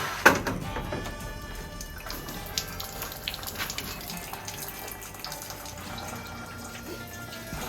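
Water runs and trickles steadily, draining from a rabbit hutch's nipple drinking line into a sink or container, with a soft thunk near the start and light dripping throughout.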